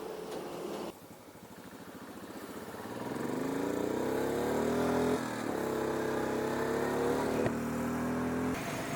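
A motorcycle rides along a highway at night, its engine rising from a low drone into a steady, loud hum with wind rush and a few bumps, with no speech.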